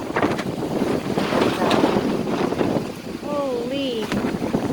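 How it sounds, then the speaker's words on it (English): Strong wind during a windstorm rushes and buffets steadily against the microphone in a wooded yard, with a bird calling briefly near the end. "They said it was going to be windy"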